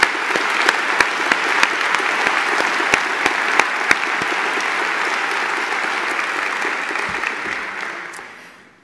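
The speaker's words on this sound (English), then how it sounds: "So please give them a round of applause this morning." An audience at a university's state-of-the-university address bursts into dense, sustained applause, with a few sharp, close claps standing out early on, before the clapping tapers away in the last second.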